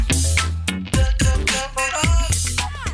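A brand sound logo: a short, loud and bright musical jingle of punchy rhythmic notes and melodic phrases, heard alone without any talking.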